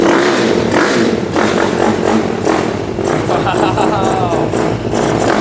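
Pocket rocket mini motorcycle with a four-stroke engine, kicked over and then running with a loud, close, buzzy drone and clattering, while people talk over it.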